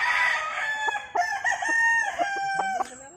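A bullstag gamefowl rooster crows nearby, one loud, clear, drawn-out cock-a-doodle-doo with harmonic, wavering notes, followed by short clucking sounds.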